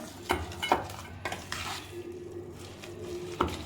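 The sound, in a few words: stirring potatoes in a pan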